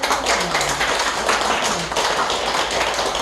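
A church audience applauds in steady, dense clapping that fills the space evenly without pause.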